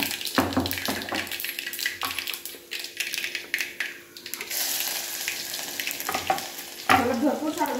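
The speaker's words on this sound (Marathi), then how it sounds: "म्हणून आता मी थोडीशी फोडणी देत आहे" Tempering for dal, garlic sizzling in hot oil, crackles and spits loudly and continuously, with occasional stirring scrapes and a brief burst of louder spattering near the end.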